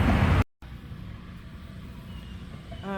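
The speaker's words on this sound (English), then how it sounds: "you can hear the traffic" Busy street traffic rumbling along steadily at a moderate distance, a low continuous roadway wash with passing vehicles, following a brief loud burst and a short gap.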